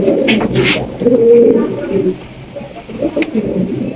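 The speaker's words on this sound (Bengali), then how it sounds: "পুরো ভিডিওতে তিন জোড়া কবুতর থাকবে" Several pigeons cooing at a pigeon farm, low rounded coos that repeat close by and overlap one another, with faint background noise and no clear speech.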